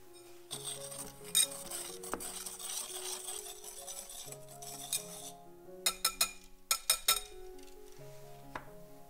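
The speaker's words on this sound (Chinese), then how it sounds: "加入核桃碎跟干料一起混匀" Chopped walnuts get mixed into dry ingredients in a bowl for French financier cakes, with soft rubbing and scraping and then a run of bright clinks of utensil on glass, close and moderately loud.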